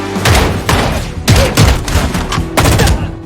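Gunfire in a film scene, a rapid volley of loud, close shots and heavy thuds in several bursts.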